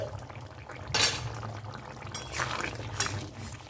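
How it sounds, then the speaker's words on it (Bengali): A spoon stirs patol and paneer curry in a pan after ghee has been added, producing soft scraping and scattered clinks of utensil against metal, close and fairly quiet, with no talking. "আবারও নেড়ে নিচ্ছি।"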